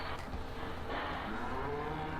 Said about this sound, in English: Now, you guys are cows, right?